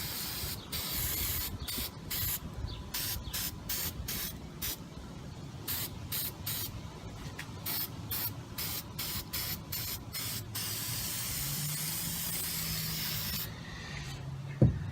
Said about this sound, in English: Let me tell you a little something about painting with spray paint too, with paper mache